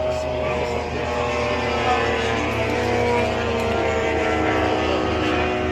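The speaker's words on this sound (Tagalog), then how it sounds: "Helicopter model." A model helicopter flies at the Elvington model airshow. Its continuous engine and rotor whine holds steady and fairly loud throughout, with faint talk mixed in underneath.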